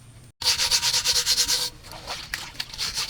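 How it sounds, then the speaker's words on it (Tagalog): Charcoal soot being scrubbed off a pot, a close, loud run of rhythmic rubbing strokes that then gives way to a few scattered, softer scrapes. "Para mas magandang matanggal yung uling, babungan natin ng matagal."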